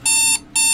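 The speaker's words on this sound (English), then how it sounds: "I jolt awake to the sound of my alarm." A video game alarm clock rings in two sharp, loud electronic bursts separated by a brief gap, bright and piercing with no talk.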